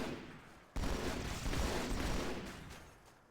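Sustained gunfire from a weapon in the Halo video game, modded singleplayer: a loud, dense burst of rapid shots begins abruptly and rattles on continuously before slowly fading, with no talking.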